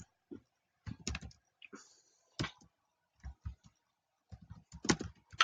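Someone types a name on a computer keyboard, a few short bursts of close, crisp key clicks separated by pauses, fairly quiet, with no speech over them.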